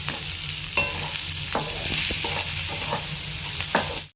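Tomatoes and split green chilies sizzle steadily in hot oil for a rohu fish curry, with a spoon scraping and stirring the pan every so often. Nobody talks over the cooking.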